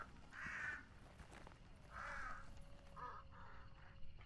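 Crows caw several times in the video game Hunt: Showdown, two separate calls followed by a quicker pair, slightly distant over quiet background noise.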